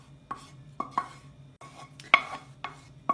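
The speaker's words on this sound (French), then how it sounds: "Là, je mélange le tout." Cooked chicken tortilla filling is stirred in a pan, with a spoon giving irregular clacks and scrapes against the cookware about six times over a few seconds and no voices.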